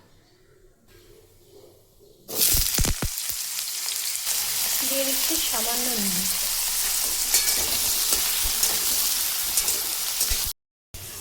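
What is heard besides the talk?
potatoes frying in oil with bay leaf and cumin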